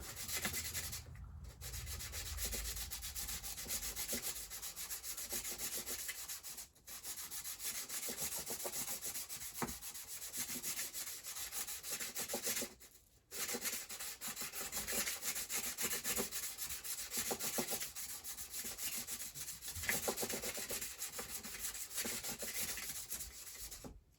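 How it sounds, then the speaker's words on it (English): Sandpaper scrubs back and forth against the back springs, a continuous dense rasping that stays close and steady, broken by a couple of brief pauses and with no talking. "we're going to move a little bit higher up on the sandpaper to get some fresh grit"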